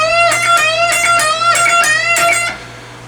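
Electric guitar playing repeated unison bends from the outro solo of a song, four bright sustained bent notes in an even rhythm, loud and close over a low hum, fading at the end.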